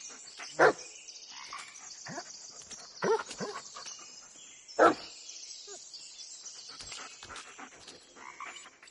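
A dog in the horror video game Blair Witch barks a few times, with sharp separate yelps spaced across a dim, rustling ambient background.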